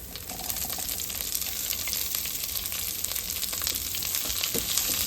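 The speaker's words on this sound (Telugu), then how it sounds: "ఫ్రై అయ్యాక దీనిలోకి మన కార్న్ వేస్తున్నాను." Corn kernels fry in hot ghee with curry leaves, ginger and green chilies, giving a steady, close crackling sizzle with small pops and a faint stirring scrape now and then.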